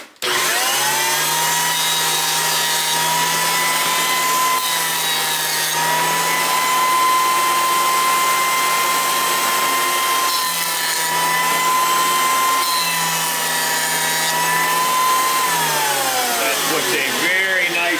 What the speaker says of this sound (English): joint the edges with my little 6-inch jointer, benchtop jointer. It's a spiral carbide cutter head, so it gives you a nice fine finish.